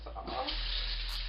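A brief rush of tap water runs steadily as pickles are rinsed in a kitchen, a soft continuous hiss with a faint voice at the start.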